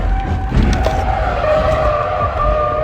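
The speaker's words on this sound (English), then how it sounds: "This girl flipped her car over because she was recording a video while driving." A car skids hard and flips over on the road, with a loud, continuous tire squeal and engine noise sustained throughout, near and alone with no talk.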